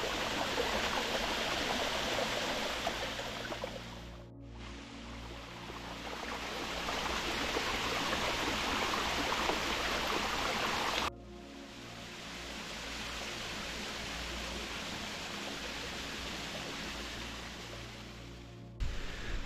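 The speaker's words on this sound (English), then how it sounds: "So there's not much water in the waterfall, but there is a nice little plunge pool here." A small, low-flow waterfall pours into a plunge pool in the Newlands Valley fells, a steady, close, broadband rush of water that runs unbroken throughout with no voices.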